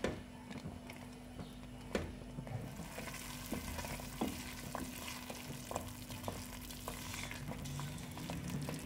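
Semolina halwa with dry fruits, coconut and almonds fries in a pan under a soft, continuous sizzle. A spoon scrapes and stirs it in scattered light clicks and taps.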